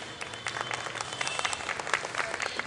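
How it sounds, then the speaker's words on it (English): A brief round of applause from an audience at a school music and instrument event, many hands clapping quickly and evenly at a moderate distance. "can I have a huge round of applause for today's morning?"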